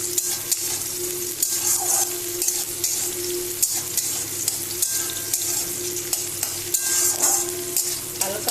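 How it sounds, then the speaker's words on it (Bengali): Onions fry loudly in a pan of oil with whole cloves, peppercorns and cardamom, a dense continuous sizzle close by, punctuated by regular stirring clicks. "এবার পেঁয়াজ কটা আমি ভেজে নেব"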